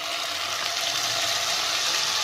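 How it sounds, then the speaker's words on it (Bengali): Marinated mutton hits hot oil with caramelized sugar in a pan while cooking mutton kosha, giving a steady, close, even hiss with no talking. "এবার আমি ম্যারিনেট করা মাংসটা দিয়ে দিচ্ছি।"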